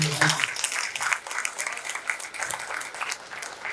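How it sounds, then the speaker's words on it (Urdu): Loud, dense applause fills a mushaira poetry gathering in Hyderabad, sustained and steady throughout without a break. "زوردار تالیاں ہو جائیں پاس"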